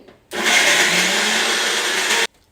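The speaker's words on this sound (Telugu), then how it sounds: "అవసరమైన నీళ్లు పోసుకుంటూ మెత్తగా మిక్సీ పట్టుకోవాలి" A mixer grinder blending chutney whirs loudly and steadily for about two seconds, starting and stopping abruptly.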